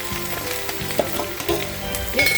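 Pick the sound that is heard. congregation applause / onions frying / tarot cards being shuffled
onions frying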